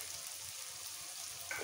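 Spices and soft tomato frying in oil for paneer bharta give off a faint, steady sizzle that carries on evenly throughout.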